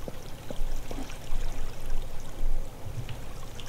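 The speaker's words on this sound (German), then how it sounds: "Das haben wir auch noch dieses schöne Geräusch von fließendem Wasser" Flowing water in the block-building game Minetest, a steady low rush with a few faint trickling splashes, moderately loud and continuous with no talking.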